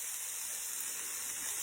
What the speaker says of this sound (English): I'm just going to go ahead and add my onions to the pan